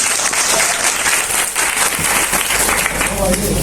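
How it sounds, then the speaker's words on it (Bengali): An audience at a session in Dhaka breaks into sustained applause, a loud dense wash of clapping that holds steady for the whole stretch. "ক্লাসরুমের জন্য একটি করতালি চাচ্ছি"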